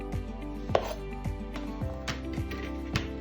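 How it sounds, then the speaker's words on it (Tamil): Onions being chopped into large chunks for chili chicken, a steady series of knife thuds on a cutting board at an even rhythm, close and moderately loud, with faint kitchen sounds. "இந்த கறி சைஸ்லேயே வெங்காயமும் அறியணும்"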